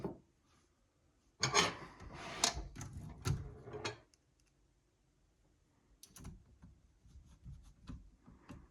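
Screws being driven back in by hand to secure the rear feeder roller of a Royal O Model vintage portable typewriter: close rubbing, scraping turns in two bursts separated by a quiet pause.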